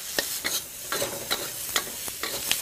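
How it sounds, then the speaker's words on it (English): Whole spices sizzling and frying in hot ghee while being stirred, with a soft continuous crackle broken by regular scraping stirs about twice a second, close and moderately quiet. "When you fry your spices in ghee, all the flavors that are locked in to those spices come out"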